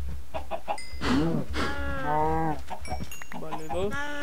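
Cows in a video game moo and low in several short, tonal calls, one after another, fairly close and clear over a quiet background.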